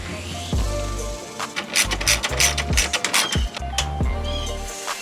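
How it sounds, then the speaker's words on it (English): A ratcheting wrench tightens the bolt on a car battery hold-down bracket, with quick clicking runs in several short bursts amid light metallic handling, close up. "get your bolt started, and tighten it down."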